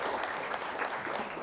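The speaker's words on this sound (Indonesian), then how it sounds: "Tepuk tangan dulu untuk narasumber kita." An audience at a talk show on balanced nutrition for teenagers applauding its guest speaker, a quiet but even patter of many hands clapping throughout, fairly soft and unaccompanied by talk.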